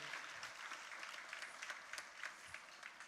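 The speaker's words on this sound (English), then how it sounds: "A big round of applause for Naina Dev." Audience applause at a cultural program during an international Sahaja Yoga seminar: steady, dense clapping from a crowd holding at an even level throughout, with no voices over it.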